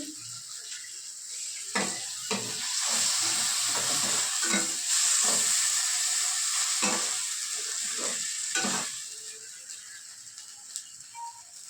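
Water is poured into a hot pan holding ginger-garlic paste for pea cutlet manchurian. It gives a sudden swelling burst of hissing sizzle that settles back. Sharp spatula scrapes and clacks repeat up close.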